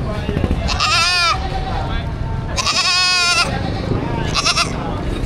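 Goats bleat three times in loud, wavering calls, spaced a couple of seconds apart, over a steady background of voices talking at a livestock market.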